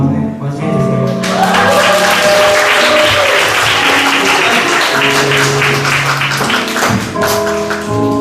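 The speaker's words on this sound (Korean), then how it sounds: "박수와 환호로 맞이해주세요." A church congregation at a Sunday worship service applauds and cheers to welcome the preacher, with steady loud clapping and whoops sustained for about eight seconds alongside tonal music.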